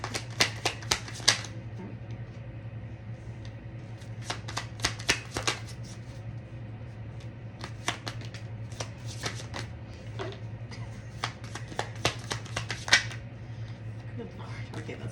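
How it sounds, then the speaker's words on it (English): Tarot cards being shuffled in repeated bursts of crisp riffling clicks and flutters, close up over a steady low hum, with pauses between rounds. "Now it's just shuffling and me talking."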